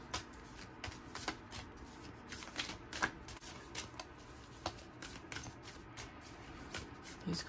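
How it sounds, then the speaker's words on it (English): A tarot deck being shuffled by hand, a steady run of soft, riffling card clicks and taps, close but quiet, continuing throughout with no talk. "I'm gonna shuffle."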